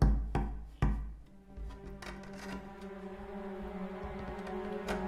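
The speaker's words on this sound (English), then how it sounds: "I kept hearing a knocking." Several dull knocks sound from an attic, a few loud thuds early on, then a quieter stretch of faint tapping and rustle with another knock near the end, no voices.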